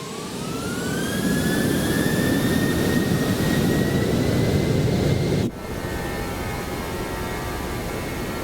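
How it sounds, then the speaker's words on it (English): A Boeing 737 jet engine in the X-Plane 12 flight simulator game, a steady loud roar with a rising whine that levels off, then an abrupt drop to a quieter hum partway through, with no voices. "at least we got to experience the engine sound."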